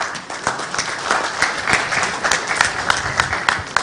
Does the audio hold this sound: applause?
yes